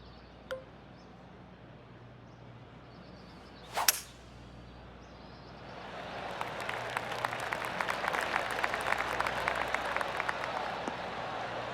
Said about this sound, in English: I can hear the golf claps around the course.